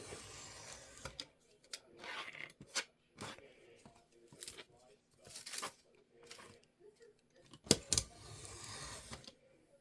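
Paper being cut with a craft blade while making a no-sew journal: a series of short, crisp slicing strokes at close range, irregularly spaced, with a sharper snap near the end and quiet talk at times between cuts.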